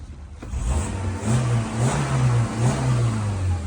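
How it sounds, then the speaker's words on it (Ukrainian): A 2007 Skoda Octavia Tour with a 1.6 MPI petrol engine, catalytic converter fitted, revs up close in a few repeated throttle blips, rising and falling over a steady mid-pitched hum. "Зараз погазую."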